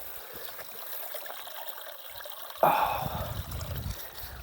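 Cold stream water trickles near the trail at Mount Rainier, a steady soft flow that grows louder and splashier for a moment as a hand reaches in, with a brief gasp of surprise.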